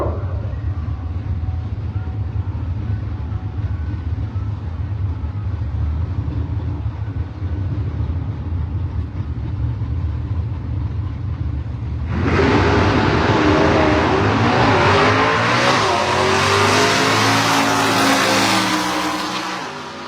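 Two six-shift drag race cars, a Ford Fairlane and a Camaro, idle with a loud, steady rumble at the starting line, then launch into a sudden, roaring full-throttle blast that stays loud and harsh to the end.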